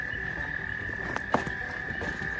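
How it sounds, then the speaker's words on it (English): Frogs croaking near wetlands in Harrison-Crawford State Forest, a steady high chorus of calls with a couple of louder nearby croaks, heard outdoors with no talking. "You can hear those frogs right now."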